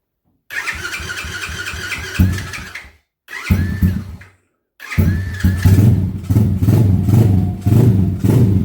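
A Honda ATC 70 three-wheeler engine cranks and sputters through a couple of brief start attempts, then catches and settles into a loud, close, lumpy idle with a steady putter.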